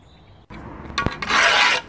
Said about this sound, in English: I'm just going to scrape this off now with the hoe